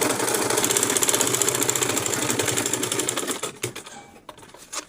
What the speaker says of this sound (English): Ensure you sew it down to this part, don't take it up.